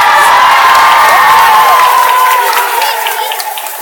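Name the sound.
crowd applause in arena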